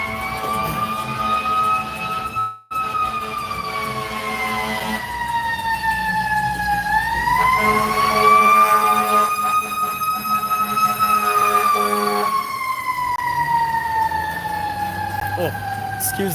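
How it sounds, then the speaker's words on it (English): A fire engine siren wails continuously on a Burbank, California street, slowly rising and falling in pitch over a low traffic rumble, loud and sustained with a brief break near the start. "Excuse the fire sirens here."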